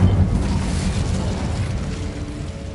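The Incendio fire spell in Hogwarts Legacy erupts in a loud, booming burst that opens with a heavy thump, then settles into a sustained roaring crackle of flame, with no voices.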